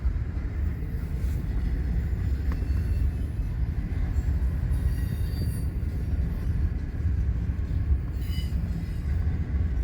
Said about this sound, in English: Eastbound stack train, which is going to follow, actually it's going to pass that unit train here in Fremont